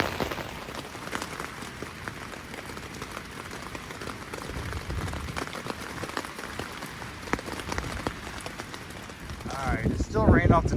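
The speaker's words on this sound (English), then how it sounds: "it's still raining off the trees and kind of windy" Rain drips and patters off trees on a windy morning along the Art Loeb Trail, a dense scattered tapping under gusts, with a voice speaking near the end.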